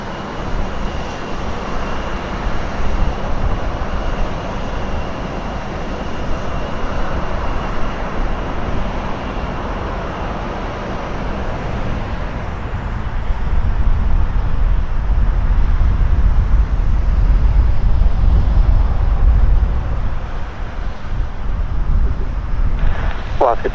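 An airliner departs from runway 28 left at Portland airport, a broad, steady jet roar that builds and grows louder near the middle of the stretch. It is mixed with wind buffeting on the microphone, and a voice talks intermittently over it.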